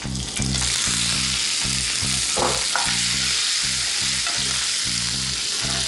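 Chopped tomatoes and green chillies sizzle loudly and continuously in a hot pan, a dense hiss with a faint regular pulsing underneath and no talking.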